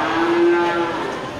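A Simmental cow moos once, a long steady low call rising out of a barn's background hum, fairly close and clear, fading after about a second.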